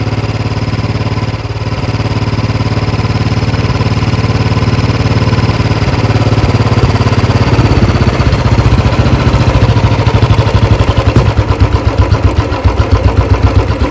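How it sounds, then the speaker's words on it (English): A Royal Enfield Bullet 350 UCE single-cylinder engine idles steadily at roughly 2000 RPM during carburettor tuning, a loud, even mechanical thrum with a rhythmic pulsing that grows more pronounced toward the end, no voices present. "seems like the bike is idling somewhere around 2000 RPM"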